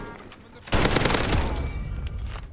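Rapid burst of gunfire in a Call of Duty Warzone-style tournament match, a sudden loud volley of rattling shots that starts abruptly and continues in a fast stream before tapering off, close and dominant.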